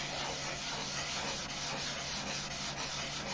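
Sandpaper scrubs steadily over a doped fabric finish in continuous close strokes, a dense dry rasping that holds at one level throughout with no pauses.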